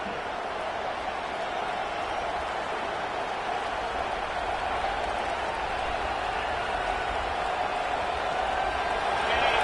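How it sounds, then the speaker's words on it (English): Loud stadium crowd roaring and cheering at a college football rivalry game against Florida State, a dense, sustained wall of noise that stays steady and swells slightly toward the end. "This crowd bringing an ear-splitting welcome to their visitors."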